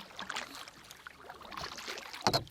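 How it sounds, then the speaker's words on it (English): A canoe being paddled alone on a lake in Algonquin, with soft water swishes and dribbles from the blade, then a sharper splash and knock of the paddle near the end. "I'm gonna shut up, keep paddling"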